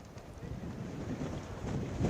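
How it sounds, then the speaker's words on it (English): Strong wind gusting into an outdoor microphone at a north-south high school football field during an all-star game, a steady broadband rumble that swells and buffets throughout with no clear talk. "The wind coming from the south, gusting to about 40 miles per hour."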